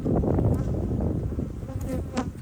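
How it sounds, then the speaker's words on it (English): Honey bees buzz steadily over a hive frame during an autumn hive check, a dense, close, continuous drone filling the moment without speech. "This frame looks pretty packed. Decent sized bees in here."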